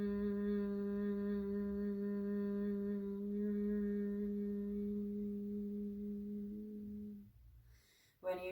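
Sustained vocal hum during a yoga breathing practice, one long steady tone held for about seven seconds with a brief change partway, close and alone, then fading out with a short breath at the end.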